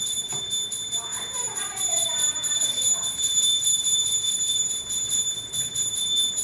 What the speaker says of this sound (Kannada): ಆ ಕಡೆಯಿಂದ ಗಂಟೆ ಬಾರಿಸ್ತಿದ್ದಾರೆ